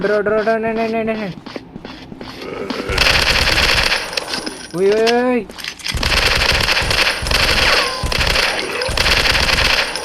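Rapid bursts of gunfire in the video game Forest Survival Hunting 2 crackle loudly through most of the stretch, with a short electronic musical jingle in between.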